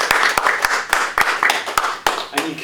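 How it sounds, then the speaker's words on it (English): An audience at a university leadership race Q&A claps for the candidates, a rhythmic run of close, sharp claps with a voice talking over them. "So give them a round of applause,"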